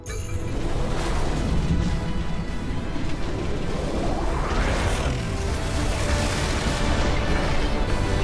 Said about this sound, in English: Oh, multiple explosions going off.